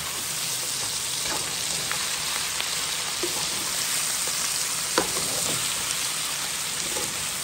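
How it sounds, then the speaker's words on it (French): Smoked chicken cooking in a pan, a steady loud sizzle and crackle with occasional scrape and clink of stirring, close and continuous with no talking. "Je mélange bien tout ça."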